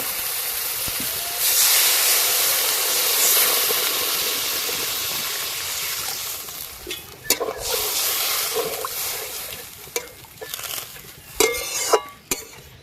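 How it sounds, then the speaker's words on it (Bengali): Water poured into hot fried spice paste for a Bengali river fish curry, a loud steady hiss of steam that swells after a quiet start and then breaks into sputtering bursts and pops, with no talk. "মশলা ভালো করে কষে নিয়েছি, এবার আমি জল দিয়ে দেব।"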